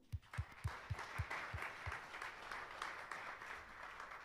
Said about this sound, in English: So give it a big applause